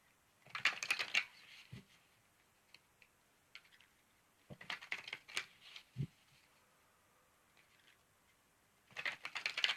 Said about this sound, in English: give me a moment while I shuffle up the cards